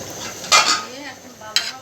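A spoon scrapes and clinks against a pot while stirring beef with milk and green chillies, two brief metallic strikes over a soft bubbling sizzle.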